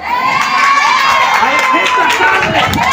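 A crowd of supporters cheering and shouting loudly together, with high-pitched children's voices prominent throughout, steady and close, with a brief spoken word over it.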